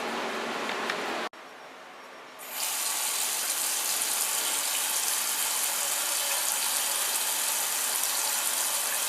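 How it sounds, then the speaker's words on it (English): Water runs from a household tap after a whole-home filter cartridge change, purging air from the lines; a steady, close broadband rush that cuts out briefly and then resumes louder and continues without pause. "Run that tap for about 1 to 2 minutes, and that'll help get some of the air out of the lines"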